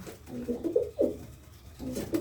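Pet pigeons in a loft at Mamupur village cooing up close, a few soft throaty coo phrases in two bursts with a short pause between.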